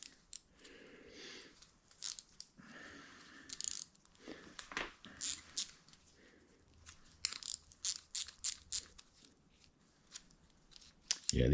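Brake pads come off a 1975 Schwinn Suburban 5-speed bicycle, heard as intermittent metallic clicks, snips and scraping taps up close, scattered in bursts with brief pauses between them.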